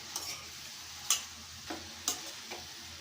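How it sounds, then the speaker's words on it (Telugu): Bottle gourd pieces being stirred in a hot pan, a faint background sizzle broken by a few soft, spaced scrapes and taps of the spoon, quiet and near. "సొరకాయ ముక్కలు ఈవెన్గా కలుపుకోవాలి"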